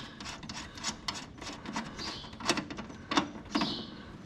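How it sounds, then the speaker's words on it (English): A big nut on a Morris Minor brake line is worked loose with a wrench, giving close, quiet rasping and scraping strokes in short bursts with a few sharper metallic clicks. "So we'll take that big nut off again."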